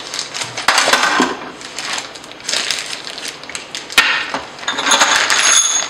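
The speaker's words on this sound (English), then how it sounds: "And these are the actual bolts." Metal bolts for a Quickmount PV solar roof mount clink and rattle as they are handled up close, with scattered sharp clacks and rustling between them.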